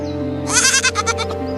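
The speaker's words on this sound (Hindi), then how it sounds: "देने वाली बकरी खड़ी है।" A dairy goat in a cartoon gives a loud, close bleat: a wavering, pulsing cry of about a second over a steady background tone, with no voices.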